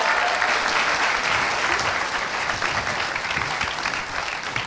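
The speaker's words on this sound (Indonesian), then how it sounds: "Tepuk tangan dong sekali untuk Mega Salsabila" Loud, sustained applause from a stand-up comedy audience for comedian Mega Salsabila, dense clapping filling the whole stretch with faint voices underneath.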